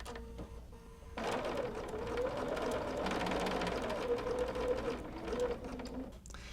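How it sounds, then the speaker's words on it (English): A sewing machine runs steadily at close range, stitching raw edge applique onto a quilt block at a short stitch length, with a brief pause before a continuous whirring run of several seconds. "And then just overlap your stitching a little bit here."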